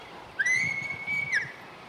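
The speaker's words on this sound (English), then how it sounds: "So I'll give him a little whistle." A single clear, steady human whistle calling a bird of prey holds one high note for about a second, fairly close, over quiet outdoor background at a medieval fair.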